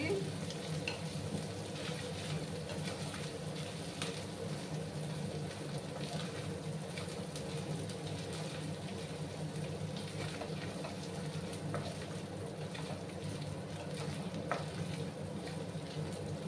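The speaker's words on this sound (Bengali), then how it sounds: "ভালো করে আমি কষিয়ে নিচ্ছি।" Urad dal with ginger and fennel paste sautéing in a pan for Bengali biulir dal, a soft continuous sizzle with light stirring, fairly quiet and without speech.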